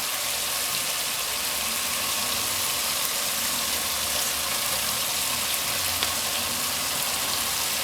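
Fish sizzles steadily in a masala curry sauce, a loud, even frying hiss that continues without pause.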